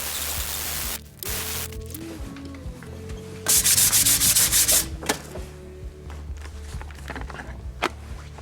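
Sanding block rubbing over a Fiat Scudo 2.0 HDI engine block during a rebuild, a steady scratchy scrubbing in repeated strokes with a brief louder burst midway, close and alone without talk.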